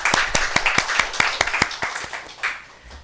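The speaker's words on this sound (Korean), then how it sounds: "우리 박수로 함께 축복하도록 하겠습니다" Church congregation clapping together during a Sunday service, a rhythmic run of sharp claps at a steady beat, close and fairly loud, thinning out toward the end.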